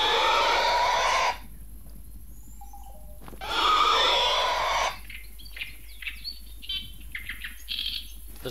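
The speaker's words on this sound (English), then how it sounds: "There's a bird over there laughing at you, Russ." Bird calls in the hunting game The Hunter: Call of the Wild on a savanna map, two loud bursts of chattering, laughing song, then fainter scattered chirps over quiet ambience.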